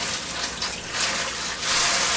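Tap water runs steadily in a home kitchen while dishes are rinsed during turkey and stuffing preparation, a close, even gush that swells slightly near the end.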